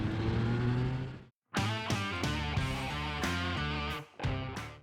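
A Triumph Speed Triple 1200 RR motorcycle accelerates hard on an open road, its engine revving up in strong pulls, broken by sharp gaps at gear shifts, loud and close.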